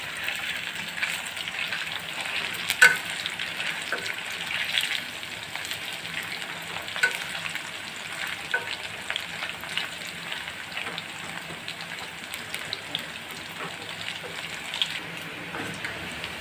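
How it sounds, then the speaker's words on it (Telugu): Chicken pieces fry in a pan of hot oil, making a steady, soft sizzle and crackle with scattered small pops throughout. "ఇలా నేను చికెన్ అంతా వేపేసుకుంటానండి."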